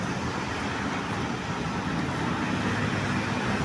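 Long queue of road traffic on C5, a steady, moderately loud roadway hum of cars and buses that stays even throughout, with no voices.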